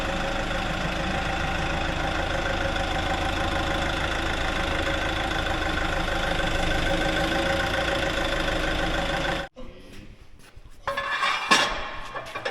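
A new forklift's engine idles steadily, a loud close mechanical drone that cuts off abruptly near the end, followed by scattered clanks and knocks.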